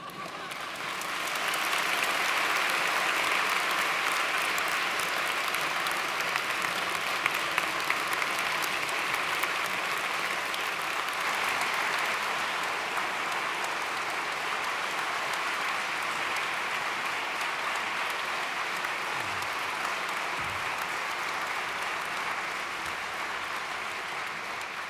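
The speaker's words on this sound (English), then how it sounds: "I appreciate your applause" Sustained audience applause fills a hall after a speech at a 2015 osteopathic medicine white coat ceremony, a steady dense wash of clapping that holds at a fairly even level for the whole stretch with no talking over it.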